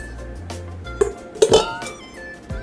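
Pink mixing bowls clink and knock together while handled, a few close, bright taps and a short rattle over a quiet room.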